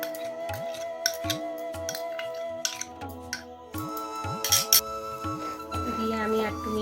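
A spoon clinking against a pan while moong laddu mixture is stirred with ghee, sharp metallic taps recurring in an uneven rhythm, close and clear, with a voice talking over it.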